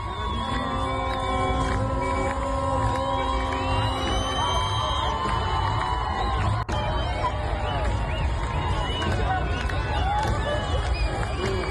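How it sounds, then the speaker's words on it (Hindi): Crowd celebrating in the streets of Isfahan, a constant outdoor hubbub of cheering, whooping voices with whistles and chanting tones, dense and sustained, some voices near and others farther off. "वहां सड़कों पर भीड़ ने खुशी मनाई है खामनेई के एलिमिनेट होने पर"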